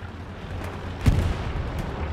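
Artillery fire in the WWII shooter Hell Let Loose, in a night battle in the Hurtgen Forest: a low continuous rumble with a single distant heavy boom about midway, no voices.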